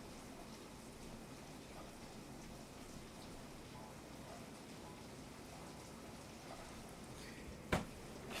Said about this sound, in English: it's raining pretty freaking hard